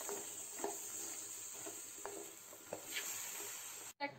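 Makhana (fox nuts) with lemon juice and sugar being stirred and sautéed in a pan, a steady soft sizzle with scattered light scraping taps from the stirring, close and alone without talk.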